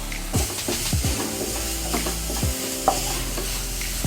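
Jaggery filling for patolya being stirred in a pan, with a spoon scraping and knocking against the metal in irregular strokes over a steady soft sizzle, close and clear, with no talking.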